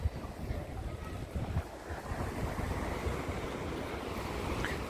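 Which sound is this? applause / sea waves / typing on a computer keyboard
sea waves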